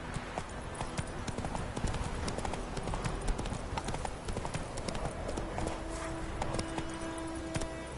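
Roach the horse gallops in The Witcher 3, a steady, rapid clip-clop of hooves running continuously at moderate level beneath faint game ambience.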